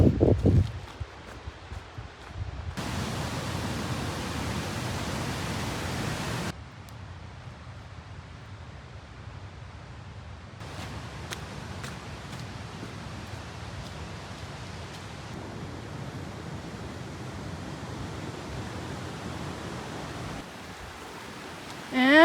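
Rushing river water at a hiking-trail crossing in the Sierra gives a broad, steady noise that shifts in level as the listener moves, with occasional scuffs and rustles nearby.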